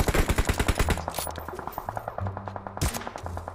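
Rapid automatic gunfire in the PUBG battle royale game on the Erangel map: a fast, even string of close, punchy shots, with other weapons rattling in shorter bursts underneath, firing continuously for a few seconds.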